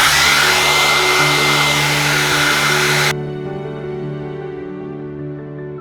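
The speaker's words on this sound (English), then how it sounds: "I'm going to use a hair dryer." A hair dryer blowing loudly and steadily close by, its airy roar cutting out partway through to leave a lower motor hum.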